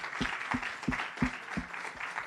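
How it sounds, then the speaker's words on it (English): A conference audience at a monetary policy meeting gives a short round of applause, heard as sparse, fairly regular individual claps rather than a dense roar, fading slightly toward the end. "let's actually kind of extend a round of applause"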